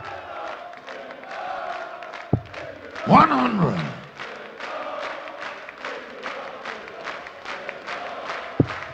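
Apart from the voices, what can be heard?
darts crowd cheering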